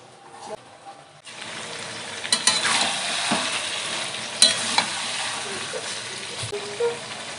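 Broiler chicken pieces sautéing in a pan, a loud hiss that swells after a quieter start, with a spatula scraping and knocking against the metal in an uneven rhythm, close by.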